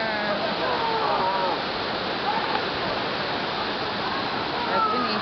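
Rushing water of the Cachoeira do Engano waterfall in a green natural setting, a constant broad roar that stays steady and close, with faint voices of people nearby partly heard over it.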